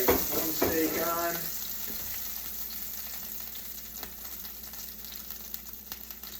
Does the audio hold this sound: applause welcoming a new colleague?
no